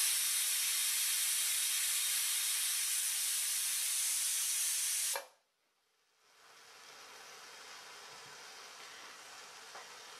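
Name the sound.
pressure cooker whistle releasing steam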